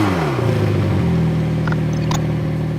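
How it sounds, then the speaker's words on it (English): A 2018 McLaren 720S revs up, its engine note sweeping up and falling back before settling into a steady, loud mid-pitched drone with a brief sharp click near the end, no voices. "Number 3, the exhaust note."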